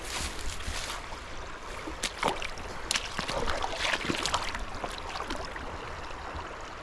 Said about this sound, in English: we gotta just walk in the stream